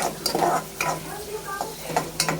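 Onion and tomato with salt cooking in a pan: a spatula scrapes and stirs in repeated strokes over a steady sizzle, with light clinks of utensil on metal, close and clear.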